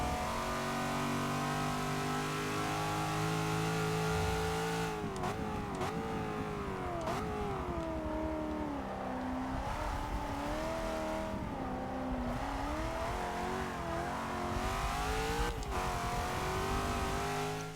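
Cadillac CTS-V sedan in Forza Motorsport 6, a loud engine revving and pulling through repeated upshifts with rising and falling pitch, continuous throughout with no talk.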